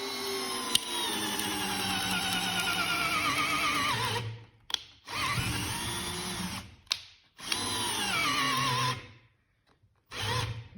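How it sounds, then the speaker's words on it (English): A Festool CXS drill/driver at speed 1 bores with a new 1/2 inch Bosch spade bit, loud whining bursts with the pitch sagging under load, stopping and restarting several times with short pauses between. "speed 1, this is a 1/2 inch brand new Bosch spade bit"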